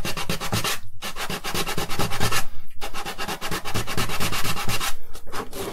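Sandpaper or a file rubbing across thin cardboard for a Star Wars Darth Vader helmet build, a close, steady rasping of quick back-and-forth strokes with two brief pauses.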